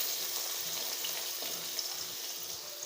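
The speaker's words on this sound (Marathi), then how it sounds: "चांगलं असं मिक्स करून घ्यायचं कांदा आणि लसूण, आणि लाल होईपर्यंत तळून घ्यायचा." Chopped onion, crushed garlic and cumin fry in hot oil in a pan with a continuous hissing sizzle, broken by low, muffled stirring thumps, with no voices present.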